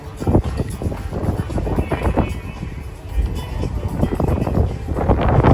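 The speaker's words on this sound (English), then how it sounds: "It's very windy up here. I hope it's not too noisy on the recording." Strong wind on the deck of the cruise ship Celebrity Summit buffeting the microphone in a steady roaring rush with gusty low rumbles, loud and continuous throughout.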